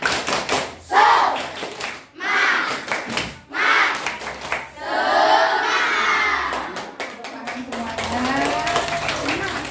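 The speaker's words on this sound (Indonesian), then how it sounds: "Tepuk semangat!" Schoolchildren at a school outing to a plantation office do a rhythmic spirit clap, loud bursts of patterned group clapping mixed with shouting and chanting voices, a few seconds of pauses between bursts.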